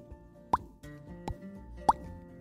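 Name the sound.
silly popping sound of pulling out of sticky slime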